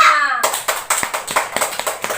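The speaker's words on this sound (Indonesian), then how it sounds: "tepuk tangan untuk kita semua" A small classroom group claps together at the end of a lesson, with sharp, close hand claps in a quick, slightly uneven rhythm after a brief voice at the start.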